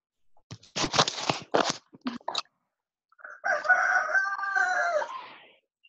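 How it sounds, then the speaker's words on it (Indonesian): A rooster crows once, a clear, loud, drawn-out call that follows a few seconds of brief crunching and clattering noises. "Ayam"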